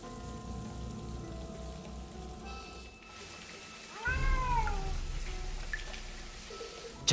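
In the video game Lost Horizon, a cat meows once, clear and close, over steady rain pattering on a surface beneath a low hum, with no talking.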